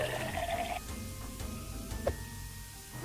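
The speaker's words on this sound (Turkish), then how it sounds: "sifonu da çektik" A toilet flushes in the Mother Simulator video game, a continuous rushing, gurgling water sound at moderate volume with a few small clunks, and no voices over it.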